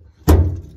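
A dented body panel on a 1971 VW Westfalia van pops out under a bottle jack wedged between the seat stand and the headlight. It makes a single loud, close metallic thunk that rings briefly.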